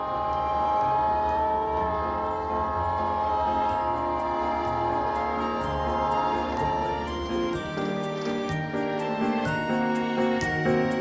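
Train pulling away from a station, a rumbling rail run with steady tonal noise and repeated rhythmic clacks of wheels on the track, the horn sounding faintly in the mix.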